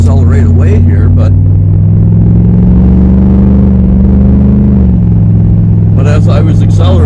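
A 305 Chevrolet Camaro pulls away under acceleration, its low, steady rumble rising slightly in pitch before settling back, with a voice talking briefly over the engine at the start and end.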